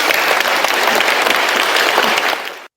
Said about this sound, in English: would you please give them a huge round of applause?